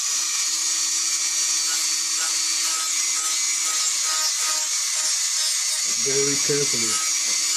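A power tool, set at its lowest speed, shaves down heavy spots on a workpiece before filing and sanding, giving a steady high-pitched whine that runs through the whole clip while someone speaks briefly near the end.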